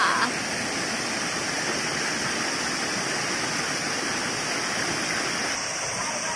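Constant roaring rush of falling water at Pang Sida Waterfall, Thailand, broad and steady throughout, like standing close to it.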